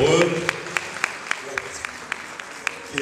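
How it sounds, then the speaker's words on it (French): An audience at a question-and-answer session for married couples claps in sharp, evenly spaced, rhythmic claps over a low hum of voices. "Est-ce qu'on va applaudir pour eux?"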